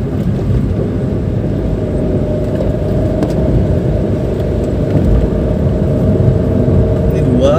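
Nissan March 1.2 manual hatchback from 2014 pulls steadily in fourth gear on an out-of-town road, a continuous low engine drone with road rumble, fairly loud and unbroken throughout, no talk over it.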